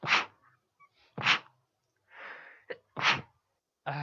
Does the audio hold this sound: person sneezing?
yes